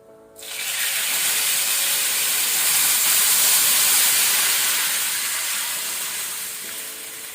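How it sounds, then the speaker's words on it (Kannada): Tamarind water hits a hot tempering in the pan and bursts into a loud, sustained sizzling hiss that swells quickly, holds, then slowly eases off as it settles to a simmer. "ಈಗ ನಾವು ಕಿವಿಚಿಟ್ಕೊಂಡಂತ ಟ್ಯಾಂಬ್ರಿನ್, ಹುಣಸೆ ಹುಳಿಯನ್ನು, ಅದರ ನೀರನ್ನು ಹಾಕೊಳ್ಳುವ"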